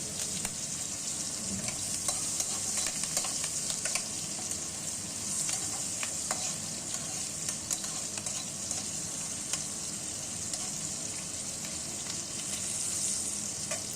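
Chopped onion and green chili frying in a pan, a bright continuous sizzle held close and steady, with occasional soft stirring clicks.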